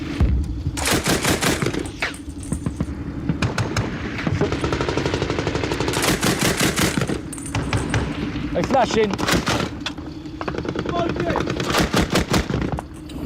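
Heavy gunfire in Afghanistan during a firefight with Taliban fighters, with repeated loud machine-gun bursts and rapid shots coming close together in rhythmic volleys, mixed with voices and field noise.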